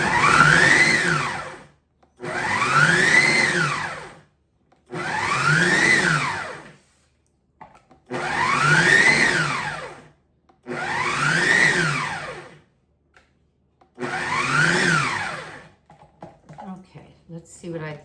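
A food processor pulses cranberries, orange and apple into a chunky relish: six separate whirring bursts, each a couple of seconds long, rising and falling in pitch with short silences between, followed by faint clatter.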